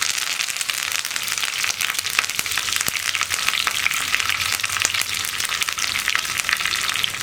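Curry leaves hit hot oil with spluttering mustard seeds in a pan while kalan is being prepared, producing a loud, steady crackling sizzle with sharp pops scattered throughout, close by and with no talking.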